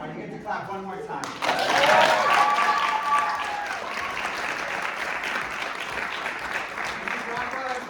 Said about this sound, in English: you get to clap one more time.